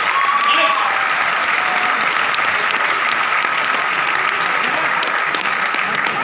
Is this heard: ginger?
no